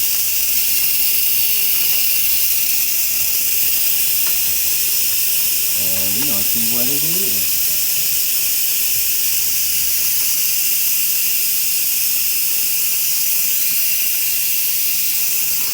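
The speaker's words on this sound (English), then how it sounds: "So we're gonna go ahead and use a spoon and let the pressure out." Instant Pot pressure cooker venting steam as its pressure is released, a steady loud hiss running throughout, with a person talking briefly over it.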